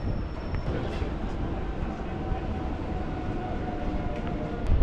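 A Chennai EMU suburban train pulls into Egmore station with a steady, close rolling rumble of wheels and carriages, a thin metallic squeal drawn out briefly near the start.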